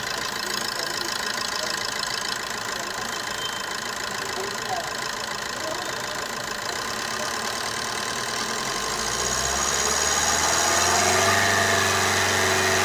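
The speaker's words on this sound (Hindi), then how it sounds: "अब थोड़ा सा गाड़ी को एक्सीलरेट करो, एक्सीलरेटर करना ज़रा" A common rail diesel car engine idles steadily, then revs up toward the end as the accelerator is pressed, a continuous close mechanical drone with no speech.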